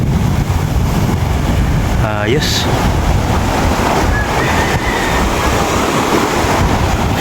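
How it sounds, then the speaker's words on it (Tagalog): Ocean waves crash against rocks on a shore, a loud continuous rushing surf buffeted by wind noise, with a brief spoken word partway through. "Nakaka-relax yung pakinggan yung ano, tunog ng alon paghampas."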